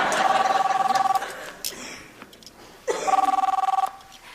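A telephone rings with two long trilling electronic bursts separated by a pause, loud and close, with some faint background noise between the rings.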